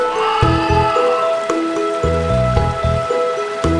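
Steady rain falls in a video game forest beside a burned-out tree husk, a continuous patter under a looping musical tone, with no talk.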